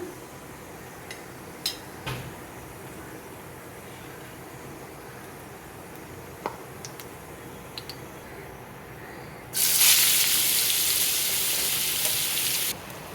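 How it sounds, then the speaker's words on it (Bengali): Nigella seeds hit hot white oil in a wok, bursting into a loud, bright, steady sizzling hiss that lasts about three seconds and cuts off abruptly, after a quiet kitchen stretch with a few faint clicks and taps. "তেল দিয়ে দিলাম, একটু কালো জিরে দিলাম"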